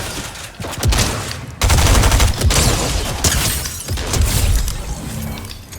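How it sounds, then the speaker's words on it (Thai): Dense bursts of rapid gunfire from the video game Fortnite, heavy and close, with near-continuous volleys and brief gaps between them. Some sharp, shattering cracks stand out, and no one speaks. "ยิงกันอีกแล้ว"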